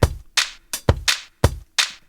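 A drum rack beat plays back in Ableton: alternating deep booming kicks and bright, crisp snare hits in a steady, tight pattern, loud and alone.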